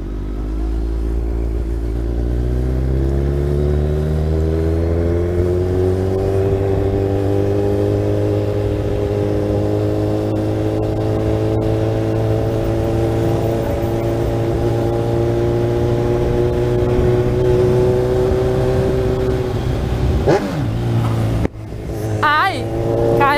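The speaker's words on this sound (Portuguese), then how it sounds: "Uma explosão essa moto." A Kawasaki Z1000 motorcycle engine revs up steadily, its pitch climbing over many seconds, loud and close, with a brief clatter near the end.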